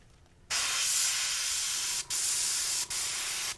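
Paint spray gun spraying a fade onto an Air Force 1 sneaker, a loud airy hiss that bursts on after a quiet start and continues in three long passes separated by brief stops.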